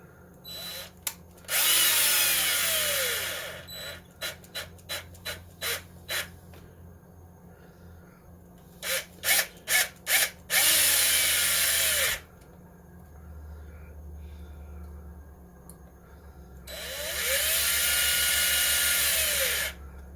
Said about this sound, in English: Now I'm going to switch my drill to the lowest settings